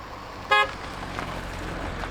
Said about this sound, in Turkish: bu köy halkı mecburen geçerken bir düt yapıyorlar